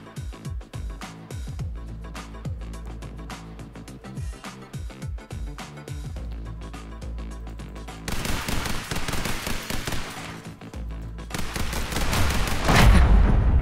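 Machine gun fire in the top-down shooter The Hong Kong Massacre, rapid bursts of shots over a steady game soundtrack, the firing growing denser and louder toward the end.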